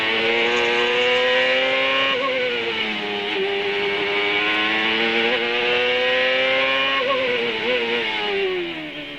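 A CART race car engine screams loud and continuous at qualifying at Laguna Seca, dropping pitch through two quick downshifts as it plunges down the Corkscrew and then winding back up.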